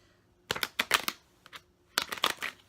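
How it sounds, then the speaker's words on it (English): Oracle cards with tarot-style cardstock being shuffled up close in two bursts of quick, crisp riffling clicks and flutters, separated by a short quiet gap. "They're not actually that hard to shuffle."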